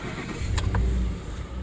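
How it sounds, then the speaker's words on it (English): A 2010 Ford F-150 pickup truck engine cranks briefly and turns over into a low rumbling idle, close by, with a couple of quick clicks at the start. "We'll start it up and we'll do it a couple times."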